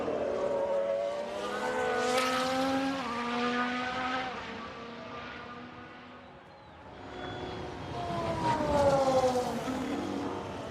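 A Ferrari Formula 1 car engine in the F1 Manager 22 video game at the Singapore circuit, a high revving whine that rises, dips as it passes and climbs again, loud and continuous with no talk.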